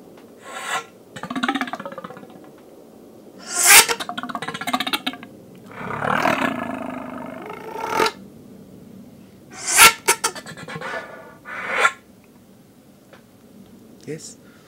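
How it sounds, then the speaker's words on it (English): Breathy unpitched air bursts blown through a flute come in irregular gusts with sharp onsets and hissy decays, close up, with pauses between them and no clear notes. "You hear only air sounds, yes."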